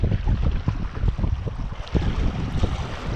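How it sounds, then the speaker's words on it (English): Strong wind buffets the microphone in continuous low rumbling gusts at a Guernsey shoreline while bass fishing, with faint water sloshing underneath and no voices. "But yeah, it's really windy."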